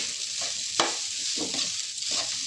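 A whole head of small garlic cloves fries in a pan with a close, dense crackling sizzle, and stirring scrapes break through at intervals. No talk is heard.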